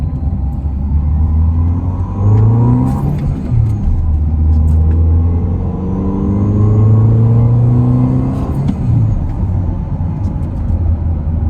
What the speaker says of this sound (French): C'est un bruit d'admission qu'on entend.